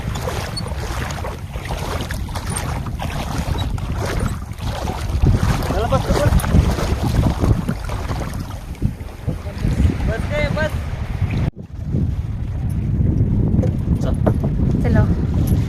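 A small boat ride at sea off Benapatti beach in Vasai, with steady engine rumble and water wash under heavy wind buffeting, loud and continuous; people talk over it.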